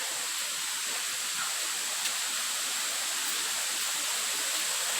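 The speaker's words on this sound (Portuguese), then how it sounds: "Barulho de água tem." Water from a waterfall and stream rushes in a constant, even hiss, heard steadily throughout with no voices on a trail to the Véu das Noivas falls in Muriqui.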